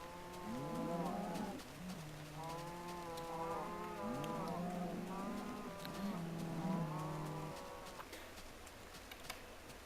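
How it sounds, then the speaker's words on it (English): Several cows on a Minecraft cow farm moo in overlapping, repeated low calls, fairly close, over a faint insect-like buzz, then quieting near the end. "My cow farm."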